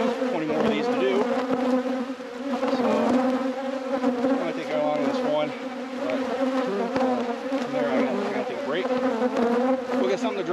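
Honey bees buzz steadily around a beehive in hot, humid Michigan summer weather, a dense, continuous drone of many wings up close, with some faint voice-like sounds mixed in.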